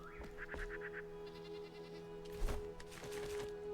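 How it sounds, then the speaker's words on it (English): A goat in the survival video game Enshrouded gives a short, wavering bleat early on, followed by faint game ambience and a few soft thuds. "There's one goat."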